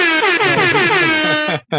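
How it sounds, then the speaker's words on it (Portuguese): A loud, close air horn blares in one sustained, brassy multi-tone blast that cuts off sharply, followed by a brief final toot, with no talking over it. "Eu tenho uma buzina só aqui, ó."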